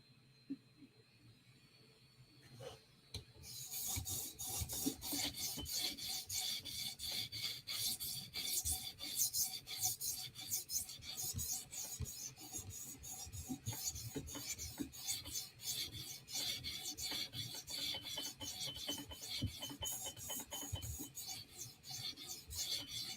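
A knife blade rasps against a 400 grit stone on a TSProf Kadet sharpener, starting after a quiet moment and then continuing as repeated close, even grinding strokes.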